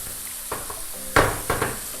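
Medium red onion going into a hot pan with bacon, a soft sizzle broken by a few sharp clattering stirs and pan knocks over two seconds.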